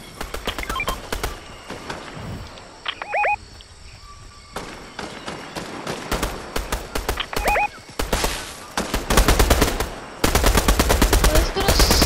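Gunfire from a weapon in the Fortnite video game, sharp broadband bursts in rapid strings, loudest and densest toward the end, mixed with other game effects including a whinny-like sound.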